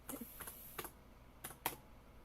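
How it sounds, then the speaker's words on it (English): Fingers type on a computer keyboard in short clattering bursts with brief pauses between them, close and fairly quiet, with no voices. "Y'all like the sound of my keyboard?"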